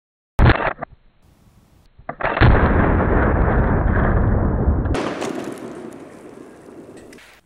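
A Benjamin Marauder semi-automatic PCP air rifle fires two sharp, loud shots close by, about two seconds apart, each followed by a lingering rumbling tail and then a hissy wash of background noise.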